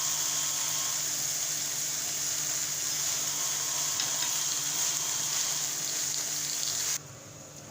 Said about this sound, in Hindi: प्याज को भी फ्राई करना, ज़्यादा नहीं करना, बस कम नरम करने पर प्याज को हल्के से।